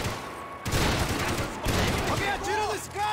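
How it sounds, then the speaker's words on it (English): Blind gunfire from a Max Payne 3 firefight: dense, rapid bursts of shots crackling continuously at close range, with brief gaps, while voices talk over the action. "Just blind fire, right?"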